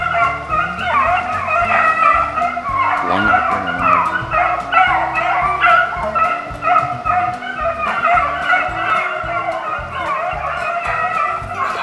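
A pack of hunting dogs on a rabbit hunt barks and yips continuously, several voices overlapping at a distance, with whining mixed in and no talking.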